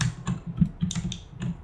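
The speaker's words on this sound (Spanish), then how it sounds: "el teclado de Sara nos quiere decir algo" A computer keyboard clatters with quick, uneven keystrokes, a steady run of sharp clicks heard close and alone, with no speech over it.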